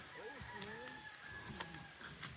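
Chickens cluck softly near a newly built breeding pen, a few low, wavering calls at moderate distance over a faint steady background hiss.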